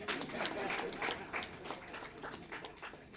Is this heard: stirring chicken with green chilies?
no